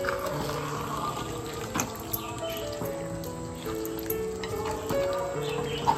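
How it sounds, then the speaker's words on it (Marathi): Water poured into a pan of chicken curry with potatoes, a continuous close splashing and trickling stream, with bird chirps in the background. "थोडंसं पाणी घालून घेतोय"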